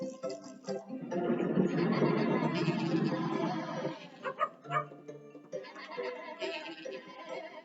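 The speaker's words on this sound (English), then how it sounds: "let's round up these sheep." Sheep bleat during a round-up, a series of close, wavering cries that come and go in short bursts and overlap one another.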